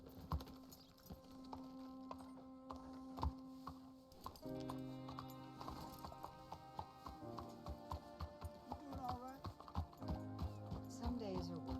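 Horse hooves clip-clop steadily in Red Dead Redemption 2, a soft rhythmic patter under a musical score, with a brief whinny-like sound late on.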